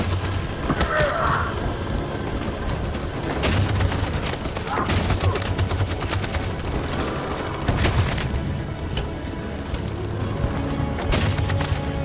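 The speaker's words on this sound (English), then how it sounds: "That machine gun has taken down everything that moved!" Heavy machine gun fire and explosive booms rattle continuously through a battle scene in Detroit: Become Human, dense bursts layered together at close range, with voices shouting over the gunfire.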